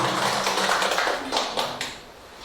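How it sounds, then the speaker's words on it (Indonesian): Dense audience applause in a hall, a broad wash of many hands clapping that holds steady and then tapers off slightly toward the end. "boleh tepuk tangan untuk istri dan anak saya"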